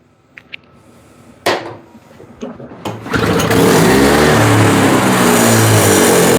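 A Toro snowblower leaking fuel sputters with a few sharp pulls and knocks, then catches and runs loud and steady close by, its small engine droning continuously to the end.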